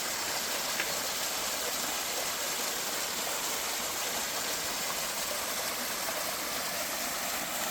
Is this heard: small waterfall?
yes